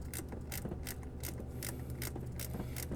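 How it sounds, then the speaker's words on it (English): A gear ratcheting wrench works on a Honda V6 engine, clicking in quick repeated strokes up close, with short bursts of ratchet clatter in a steady back-and-forth rhythm and no talk. "Okay, got a gear wrench on here to get this out more quickly."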